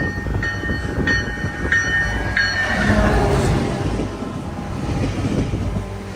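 Passenger train 557 with cab car passing close at a station platform, a loud steady rumble of cars with repeated rhythmic wheel clicks over rail joints, no voices.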